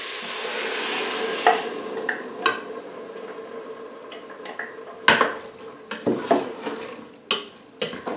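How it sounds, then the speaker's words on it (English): A spoon stirs chicken and mushroom risotto in an Instant Pot EVO, scraping stuck bits off the pot's bottom with repeated close, uneven scrapes and knocks against the metal, with no talking. "Again, make sure you scrape any stuck bits off the bottom."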